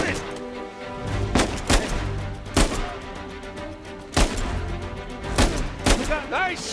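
Gunfire from Uncharted 4, a series of sharp, loud shots spaced irregularly across the stretch, with booming impacts and game voices between them.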